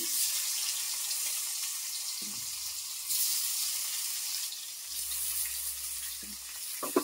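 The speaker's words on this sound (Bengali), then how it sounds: "এখন গ্যাসটা কমিয়ে আমি 2-3 মিনিট এই আলুগুলোকে একটু তেলে ভেজে নেব" Potatoes fry in hot mustard-style oil seasoned with black cumin, a steady close sizzle with a soft watery hiss throughout, punctuated by a few clinks and low bumps of a pan or spoon, no one talking.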